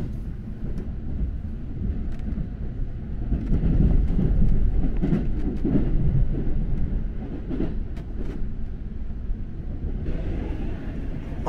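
A local train rolls toward Nagoya Station with a steady low rumble and muffled wheel and track noise, heard from inside the car. The rumble swells in the middle and a few faint clicks pass along the way.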